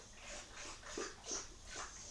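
A pet dog indoors makes a run of soft, breathy whining and yelping noises in quick bursts, close by and fairly quiet, with no talking.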